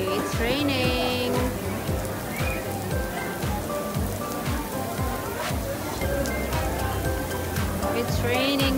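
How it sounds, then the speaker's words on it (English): Rain falling on Center Island in Toronto, a dense steady patter of drops on surfaces, close and constant, with brief voices and other noises mixed in. "It's raining here"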